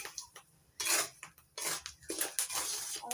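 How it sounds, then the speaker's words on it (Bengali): Chickpeas dry-roasting and popping in a pan with no oil or sand, giving irregular bursts of rattling and clattering as they are stirred, fairly close. "ছোলাগুলো কত সুন্দর ফাটছে"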